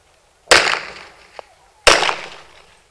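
Two sharp gunshots during sport shooting practice, about a second and a half apart, loud and close with short decaying echoes and a faint click between them.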